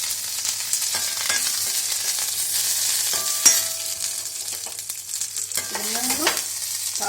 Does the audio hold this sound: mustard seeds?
yes